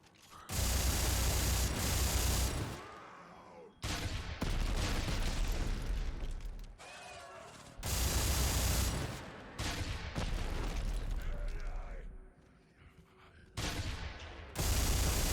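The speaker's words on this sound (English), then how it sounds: "the Rivet machine gun finished him off anyway" Bursts of Rivet machine gun fire in the sci-fi shooter game Dead Space 3, loud rapid mechanical volleys broken by short silent gaps, repeating several times with clanking, ratcheting weapon sounds.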